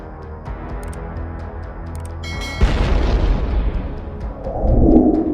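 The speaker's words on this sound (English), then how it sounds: "a Ukrainian kamikaze drone flew under it, detonating in an explosion also captured on video." A Ukrainian kamikaze drone detonating under an old truck, heard as a deep muffled boom with rumbling aftermath, fairly loud, heard through a steady background roar with no talk.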